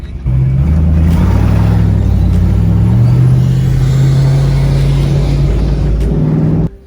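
A loud, close engine of a supercharged Ford Mustang GT drones and revs steadily, its pitch climbing and holding high before cutting off abruptly at the end.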